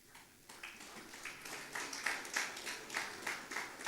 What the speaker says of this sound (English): let's give the 5 presenters a round of applause with appreciation